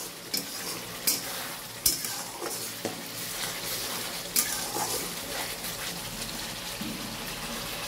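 Onions with whole garam masala and dried red chillies fry in a pan for chicken rezala, giving a continuous close sizzle broken by a few sharp stirring clinks and scrapes.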